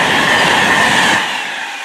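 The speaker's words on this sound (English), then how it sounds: "there goes 390-046, heading to London Euston from Manchester Piccadilly" A Class 390 electric train, unit 390-046, rushes past close by with a loud, steady broadband roar and rail noise that fades slightly toward the end.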